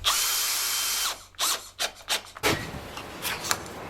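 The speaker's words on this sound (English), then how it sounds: "we'll put the other screw in and fix it into place" A power drill drives a screw into scrap wood: a second of steady high whine, then several short bursts as the screw is snugged home, with scraping and handling noises after.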